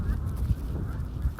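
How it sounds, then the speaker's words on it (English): A flock of migrating geese honks overhead near Almscliffe Crag, a quick run of nasal calls overlapping in a short burst, moderately close against an open outdoor hush. "we've got a flock of migrating geese flying overhead"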